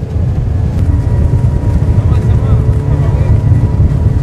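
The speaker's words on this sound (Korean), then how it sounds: "보트는 폭포를 향해 곧장 달려갑니다." A loud, steady speedboat engine roars continuously as the boat speeds toward a waterfall in Argentina, with rushing water mixed in and no pauses.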